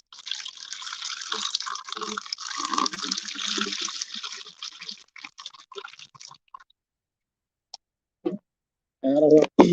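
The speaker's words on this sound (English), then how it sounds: "So we're just pouring some water inside of our" Water being poured into a bowl for mixing with lime during a demonstration at a hemp technology conference: a steady rushing splash for about five seconds, then trailing sparse drips, with a brief voice at the end.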